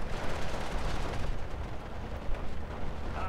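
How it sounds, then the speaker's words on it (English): Machine gun fire in a World War II armoured battle video game on the Kostritsa map, with rapid bursts and booming blasts rolling together in a dense, continuous barrage. "With light machine guns, they can do some serious work out here."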